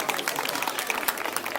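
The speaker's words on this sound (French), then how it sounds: "on peut les applaudir, c'est formidable" An audience claps for children at a baptism celebration, a short burst of dense, fairly close applause with scattered voices mixed in.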